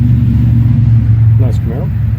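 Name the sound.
Chevrolet Camaro car driving by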